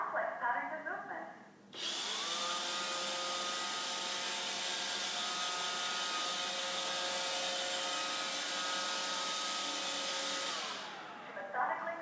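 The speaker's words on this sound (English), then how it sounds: "While Roomba is cleaning, it uses an array of advanced sensors and complex patterns of movement." An iRobot Roomba 560 robot vacuum cleaning a floor starts up with a sudden, steady high-pitched motor whine and brush hum that holds evenly for about nine seconds before cutting off, with faint voices before and after.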